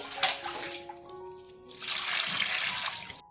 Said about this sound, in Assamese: এতিয়া মই মাছখিনি ধুই ল'ম।